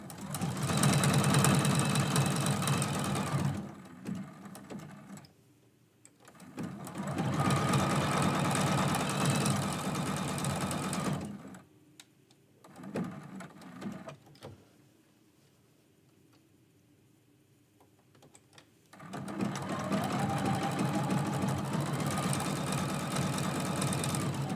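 A sewing machine stitches quilt blocks in three long, loud, steady runs of rapid close whirring, separated by quiet pauses with a few short bursts of stitching.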